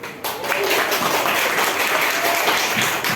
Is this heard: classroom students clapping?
yes